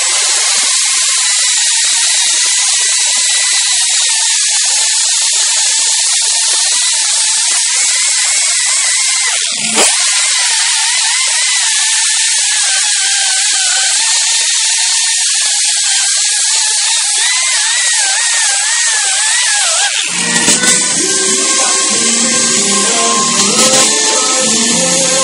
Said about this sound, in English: I'm gonna go ahead and grind it down and get it all smooth.